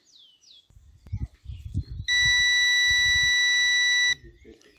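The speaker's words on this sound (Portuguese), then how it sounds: "Ele deu um longo bip agora" A KF 102 Pro drone gives one long, steady electronic beep of about two seconds, clear and close, with someone speaking softly before and after it.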